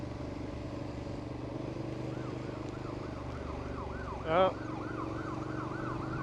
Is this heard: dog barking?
no